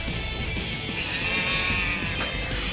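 A cow-like bleat from a hulking enemy in the action game Metal Gear Rising, a loud, drawn-out sheep-like cry set against dense game noise.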